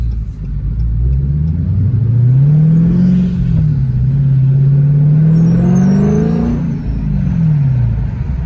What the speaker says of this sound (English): this car's starting to sound so good, man, with the that exhaust note finally opening up, those vibrants